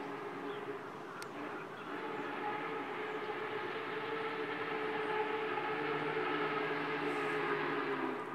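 Union Pacific 844 steam locomotive standing at the old Katy station in McAlester, a steady continuous rumble and hiss with faint tonal hum, fairly even in level throughout, no voices.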